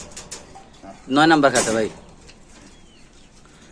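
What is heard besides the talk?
pigeons cooing in a cage at a pigeon sale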